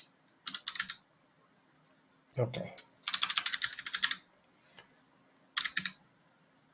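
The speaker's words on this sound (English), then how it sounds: "So as I start typing it into here, it shows up." Someone types on a computer keyboard in short bursts of clicking, close and clear, with quiet pauses in between and a brief spoken word.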